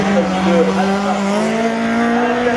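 A rally car on a slalom course at the Lessay finals, a loud close engine revving with rising and falling pitch as it drives through, continuous for a few seconds.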